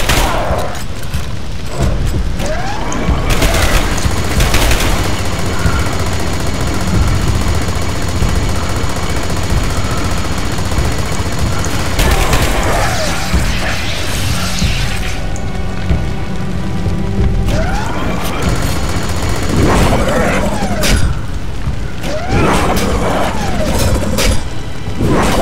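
Repeated heavy gunfire and booming impacts from shooting in the video game Dark Sector, loud and continuous with bursts and crashes throughout, no talking.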